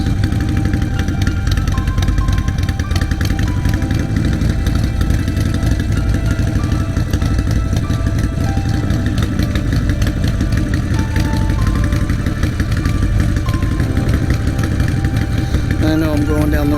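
A motorcycle engine idles close by in a steady, loud, even rumble that runs throughout, with a person talking over it.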